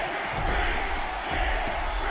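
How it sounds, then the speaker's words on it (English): A UFC 6 arena crowd keeps up a dense, loud, continuous chant and roar with no breaks across the short stretch. "The crowd literally chanting for King Green"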